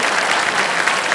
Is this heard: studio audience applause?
yes